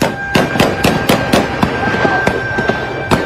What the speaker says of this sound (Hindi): फायरिंग की जा रही है।